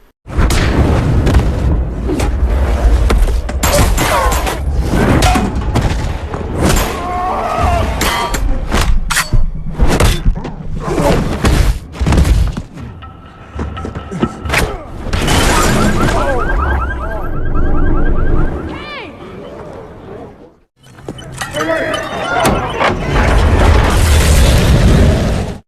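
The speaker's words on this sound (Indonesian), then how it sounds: "Joe Smith menyelamatkan seorang bocah dari sebuah ledakan" Booming blasts from an explosion scene in the 2022 action film Samaritan, with repeated loud bursts and rumbling debris over a dense soundtrack, dropping out briefly near the end before surging back.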